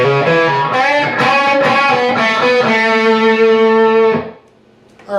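Distorted electric guitar plays a fast run of notes from the solo of a song, then holds a sustained bent note before cutting off, with a brief attack at the end.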